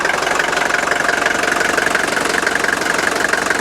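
An old car engine idles at a salvage auction yard, a steady close rumble with a fast knocking tick and an even hum, running alone with no voices.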